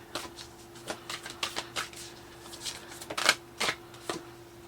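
Tarot cards shuffled and drawn for a reading: a run of sharp, irregular riffling snaps and flicks at close range, quiet overall, with a steady faint hum beneath and no talking.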